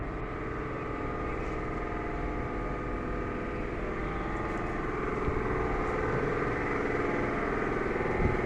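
A 150 kVA FG Wilson diesel generator that has been overheating runs with a steady, loud, unbroken engine drone and mechanical hum, with no voices over it.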